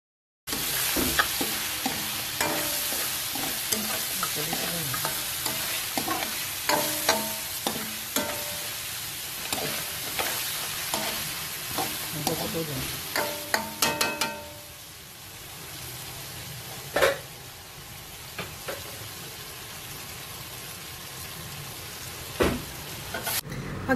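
Beef ribs for sinigang being stirred in a pot, with a steady sizzle and repeated scraping clacks of the spoon against the metal that thin out partway through, leaving a softer hiss and a few isolated knocks.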